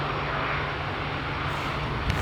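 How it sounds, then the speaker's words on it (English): An EasyJet Airbus A320 airliner just after landing at Edinburgh airport, a steady, loud, broadband jet engine roar with a low drone, continuous throughout. "here's that A320 that has just landed"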